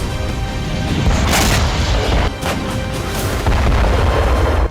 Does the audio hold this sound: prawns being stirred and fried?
no